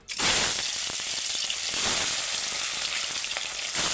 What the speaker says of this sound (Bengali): মাছগুলো ভেজে ভেজে নিই